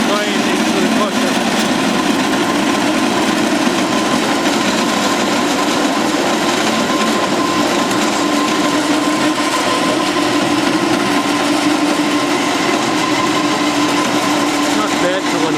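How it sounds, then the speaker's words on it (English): A grain crusher runs steadily inside a farm cow shed as more grain is fed in, a loud continuous mechanical whir and grind with no pauses throughout. "He's putting more grain into the crusher."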